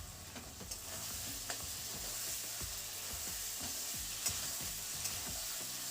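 Fried potatoes being stirred into sizzling masala in a pan for a rohu fish curry with potato and cauliflower: a steady, faint sizzle with rhythmic scraping strokes of a spoon, and no voices.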